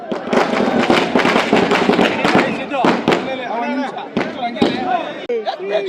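Firecrackers burst in a rapid, dense crackling string at an election victory celebration outdoors, loud and close, with a crowd shouting and talking over the bangs.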